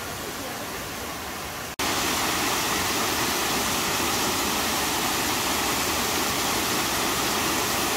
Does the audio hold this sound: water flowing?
yes